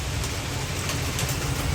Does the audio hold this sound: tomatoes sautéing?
no